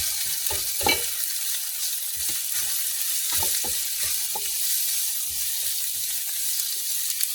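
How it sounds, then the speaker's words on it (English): Sliced onion sizzling steadily in hot oil in a pan with curry leaves for potato masala, a continuous crackle with a few louder stirring scrapes, close and without voices. "We will add one large sliced onion."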